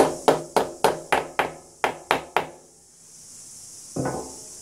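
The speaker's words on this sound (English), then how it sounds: "There's our little magic hammer." A hammer taps a Yamaha Viking cylinder head onto its barrel in a quick series of about eight sharp knocks, then a pause and one final tap, close and clear.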